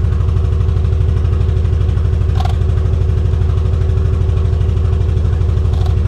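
A Rolls-Royce car engine runs steadily at a fairly high, even pitch, a constant close-up rumble with no pauses and no voices.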